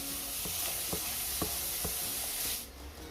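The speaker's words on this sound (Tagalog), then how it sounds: "Ilagay naman natin ang mga kamatis. Ayan, hahalu-haluin lang natin." Tomatoes being stirred into a frying pan for tuna pasta: a steady sizzle with a spoon scraping the pan about every half second, the frying hiss dropping away near the end.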